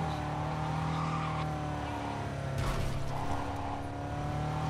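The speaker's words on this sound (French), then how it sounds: "on entend le moteur qui arrête pas de ronronner" A car engine in Cyberpunk 2077 purrs steadily at idle, a constant low hum with a faint rise and swell partway through, heard at moderate level.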